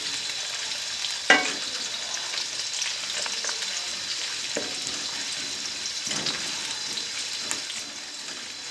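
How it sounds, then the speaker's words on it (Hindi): Onions frying in oil for palak gosht, a steady bright sizzle with a sharp spoon knock early on and occasional scraping stirs, close and continuous without speech. "प्याज को उस वक्त तक भूनेंगे जब तक इसका कलर गोल्डन ब्राउन ना हो जाए।"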